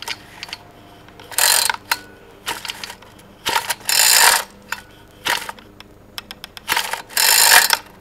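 Overhead-valve rocker arms on a four-stroke GoPed engine click and clatter in quick mechanical bursts, close and fairly loud, separated by short quiet gaps.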